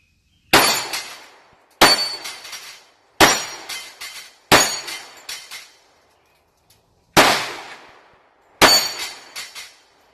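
Six sharp, loud gunshot cracks from a Smith & Wesson Shield .45 pistol at an outdoor shooting course, fired in a steady string about a second apart with a short pause before the last two, each trailing off quickly.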